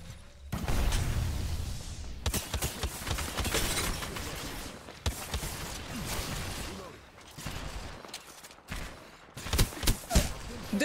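Gunfire in the Apex Legends battle royale game, rapid bursts of shots and sharp cracks clustered together, loud and close, with voices talking over parts of it.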